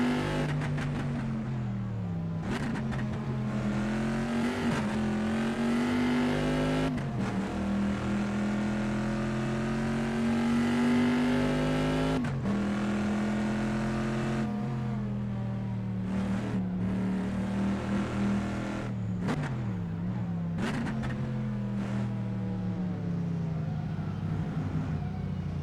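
Classic GT race cars from a sim-racing mod pack, a Porsche and a Bizzarrini among them, engines droning steadily with repeated gear shifts and revs through corners, loud and continuous for the whole stretch.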